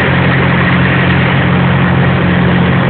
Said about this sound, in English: all these trucks driving around with their exhaust